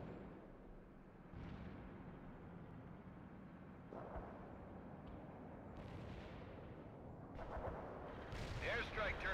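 Airstrike explosions in World in Conflict: Soviet Assault, low rumbling detonations rolling in waves beneath battle noise, with brighter bursts near the end and voices talking over the top.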